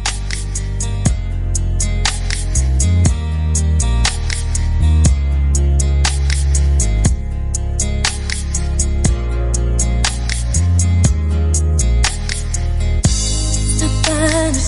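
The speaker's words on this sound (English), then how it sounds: "Shyam Isaac has came through with a request, and it sounds like this" A Tamar Braxton R&B song plays loudly on the radio as a listener request, with continuous music and heavy bass and no talk over it.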